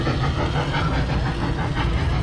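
A tourist train passes along a street in Sarasota with a steady, fairly close rumble and faint rhythmic clatter over a continuous mechanical hiss, heard alone for a couple of seconds.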